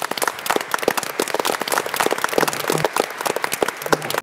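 At a startup pitch competition, an audience claps to welcome a founder onto the stage. The clapping is close and crisp, with many overlapping hands in a lively, steady burst.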